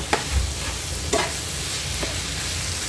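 Chicken sizzling with tomato and onion in a hot pan, steady frying hiss with a few sharp stirring scrapes, close and fairly quiet, no speech.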